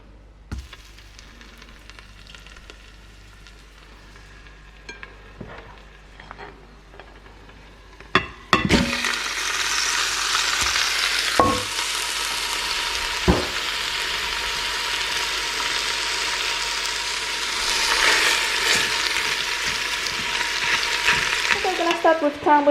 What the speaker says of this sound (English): throw it in the pan and see if it's sizzling